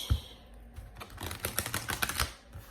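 Quick crisp tarot card shuffling, a rapid riffle of clicks and flutters lasting a couple of seconds, close and fairly quiet.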